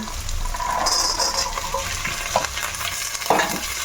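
Carrots and green peas frying and being stirred in a pan, a steady close sizzle with scraping spatula strokes and a couple of sharper clinks toward the end.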